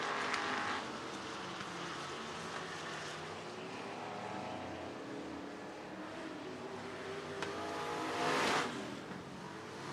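IMCA modified race cars circle the Sunset Speedway Park track in a steady, distant engine roar, with one car swelling louder as it passes near the end.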